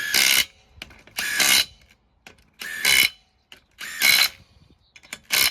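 Impact gun tightening the wheel nuts on a VW Transporter in five loud, close, rattling bursts of about half a second each, separated by short quiet gaps, with no talking.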